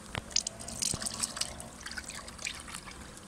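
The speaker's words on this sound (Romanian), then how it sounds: "Acum vom băga siropul." Thick sugar syrup trickles and drips into a beehive feeder in short irregular pours, with a few faint clicks and knocks nearby.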